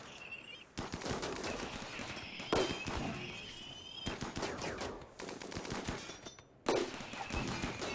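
Dense gunfire coming from several directions during a firefight in Rimworld, rapid crackling bursts that keep going almost without a break and are cut by short pauses, loud throughout.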